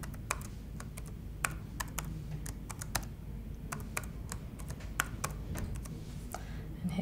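Keys tapped on a computer keyboard while entering a new password, an irregular series of sharp clicks over a steady low hum in a quiet room.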